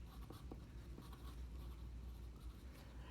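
Pen or pencil scratching steadily across watercolor paper while lettering words, a soft continuous rasp with small strokes, quiet and close over a low background hum.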